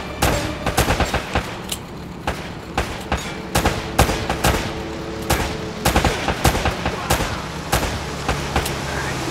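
Rapid bursts of gunfire from the video game Uncharted: Drake's Fortune, sharp repeated shots clustering into volleys across the whole stretch over a steady bed of game ambience.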